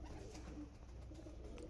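Faint, soft cooing from a pair of Andhra Kalsira Lalsira pigeons in a loft, low murmuring calls repeating quietly with no voices.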